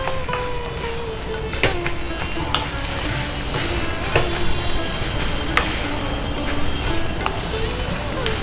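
Chhana (cottage cheese) with coriander powder and spices frying gently over low heat in a pan, a steady soft sizzle broken by scraping stirs, with a voice talking over it.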